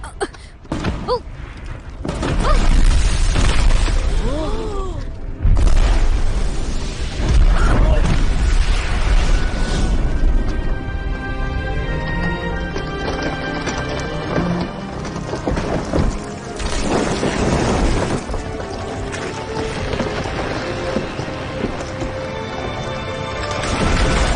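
Firecrackers go off in loud, booming bursts with crackling, crashing tails, several blasts spread across the stretch amid other busy background sound.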